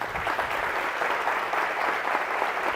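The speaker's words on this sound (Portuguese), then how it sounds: "aplauda Ele" A church congregation applauds during a worship service, steady dense clapping from many hands filling the space, loud and continuous with no pauses.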